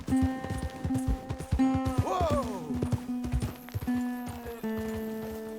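Horse hooves clip-clop at a steady walking rhythm in the Red Dead Redemption western game, up close over open plains. A horse whinnies briefly partway through, and musical tones sound underneath.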